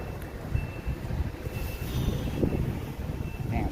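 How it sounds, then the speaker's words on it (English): Outdoor wind buffets the microphone, making a continuous, uneven low rumble with gusty swells throughout. "Man, it's a little windy."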